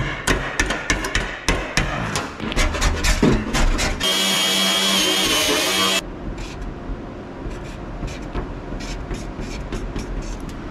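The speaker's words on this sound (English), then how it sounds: "I knew there was a reason I bought this wood chisel." Hammer blows on a wood chisel, struck in a rapid run of sharp, loud metallic knocks, then steadier strikes with a brief high whine partway through.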